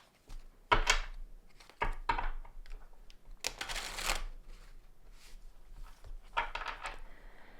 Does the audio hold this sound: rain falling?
no